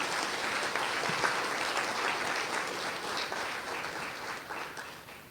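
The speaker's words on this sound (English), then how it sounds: "we need to applaud" Conference attendees at a criminal justice reform event clap in a full, steady round of applause that carries on for several seconds and eases slightly at the end, with no speech over it.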